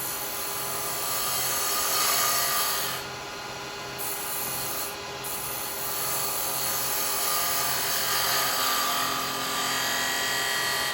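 A carbide chisel makes a shear stroke on a wood lathe while turning a small Christmas angel, producing a steady, close whirring rasp over the constant hum of the spinning lathe.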